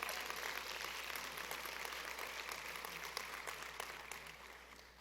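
Church congregation applauding during a Spanish-language service, a steady wash of many hands clapping at a distance that holds for five seconds and tapers slightly, with a low hum beneath.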